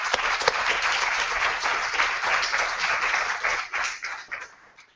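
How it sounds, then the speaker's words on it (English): An audience at a museum talk applauds, steady dense clapping that holds for several seconds, then thins out and fades toward the end, heard from a moderate distance. "So I want to give them a big round of applause."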